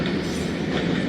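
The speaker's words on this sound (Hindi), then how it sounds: "टाउन में कंटेनर ट्रेन थ्रू पास हो रही है और काफ़ी लेंथ है इस ट्रेन की।" A long container train rolling through a station in Pakistan makes a loud, close, continuous rumble with rhythmic clickety-clack of wagon wheels and faint squealing, without speech.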